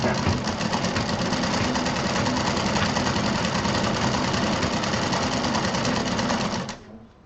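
A sewing machine runs steadily while stitching fabric for a baby doll bag, a close, loud, even mechanical whir that stops abruptly near the end.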